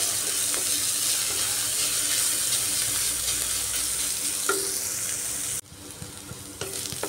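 Chopped onions, with ginger and garlic, fry in a pan for a masoor dal with egg, a steady close sizzle with occasional scraping stirs, then a sudden drop to quieter frying near the end.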